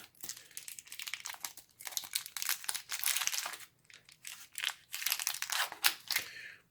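Crinkly plastic wrappers on Tootsie Rolls from a 1998 US Long Range Patrol ration being peeled open, close and loud, in repeated bursts of crackling and tearing with short pauses between them.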